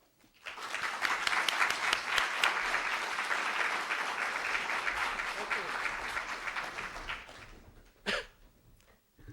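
Audience applause welcoming Dr. Michael Epperson to a STEM talk: a sustained, dense clapping crowd that swells quickly, holds for about seven seconds, then tapers off, with a short extra burst near the end.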